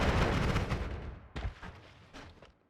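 A wand spell fired for recoil in Noita: a loud booming blast that rumbles and fades, followed by two or three sharper, quicker bursts with short tails.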